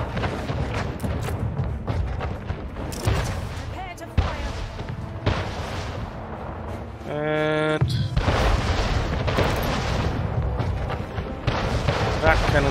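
Repeated booming cannon-like blasts from a cannon tower in the video game Anno 1800, loud and frequent, mixed with game effects and a brief tonal chime partway through.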